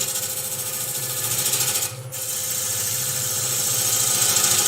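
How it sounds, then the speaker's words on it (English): A wood lathe spins a 6 x 6 x 12 spindle blank while a bowl gouge cleans the face, giving a continuous close grinding hum with a rapid rhythmic rumble and a brief dip near the middle. "I'm just going to come in here with a bowl gouge."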